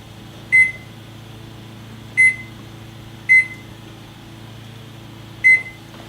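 An oven timer being set gives four short, clear electronic beeps at uneven intervals over a quiet, steady background hum.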